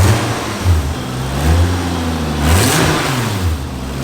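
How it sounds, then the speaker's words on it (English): A Toyota Supra MK4 engine with a big exhaust leak, revved in repeated swells that rise and fall in pitch, loud and close with a raspy, puffing exhaust note. "It sounds like there's a big exhaust leak."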